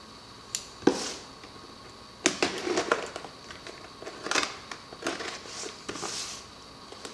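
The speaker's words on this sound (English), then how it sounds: "So I have to cut the top open." The top of a cardboard box holding a Neptune Apex ATX aquarium controller is cut open at close range, with irregular scraping, tearing bursts and crinkling scattered across several seconds.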